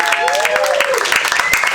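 Comedy club crowd at Dangerfield's in New York City applauding a comedian's exit, dense steady clapping and cheering that fills the room for a short burst, with some voices mixed in.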